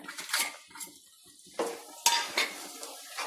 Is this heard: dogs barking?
no